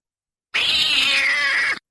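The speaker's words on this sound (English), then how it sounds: "The cat hisses, then lets out a screech" A black cat hisses and screeches as an audio drama effect, giving one loud, close, sustained cry of a little over a second that cuts off sharply into silence.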